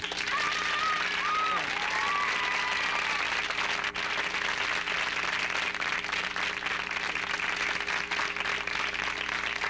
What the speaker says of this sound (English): have them clap their hands real loud to try out the microphone